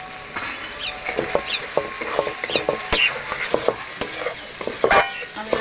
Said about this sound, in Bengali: আমি ওই মশলাটা ভালো করে ভেজে কষিয়ে নেবো মশলাটা।